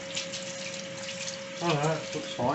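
Cold tap water runs over homemade farmhouse cheese curds being rinsed in a kitchen, a steady close splashing stream, with a person speaking briefly partway through.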